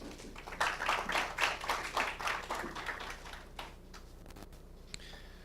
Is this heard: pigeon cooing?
no